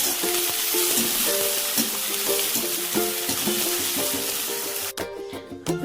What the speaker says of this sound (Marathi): लसूण, कांदा, मिरची सर्व काही आहे ना शेंगदाणे टाकून आता मस्त फ्राय करून घेतो